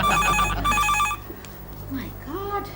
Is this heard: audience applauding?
no